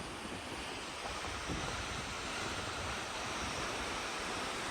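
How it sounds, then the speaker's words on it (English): A huge waterfall runs down a mountain into a canyon, a dense, steady roar of rushing water, loud and unbroken, mixed with wind buffeting the microphone. "there's a huge waterfall that runs down this mountain, comes out right here."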